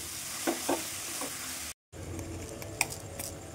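Prawn filling sautés in a pan with a continuous soft sizzle and a few light taps of a spatula, cut by a brief dropout of silence midway.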